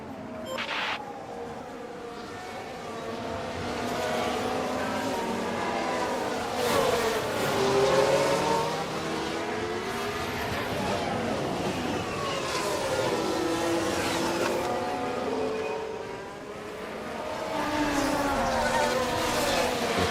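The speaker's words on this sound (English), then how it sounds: "Leclerc is pushing up onto the back of Sainz here" Formula 1 race cars from F1 Manager 24 on track at Belgium, high whining engine tones sweeping up and down as cars pass, continuous and fairly loud without talk.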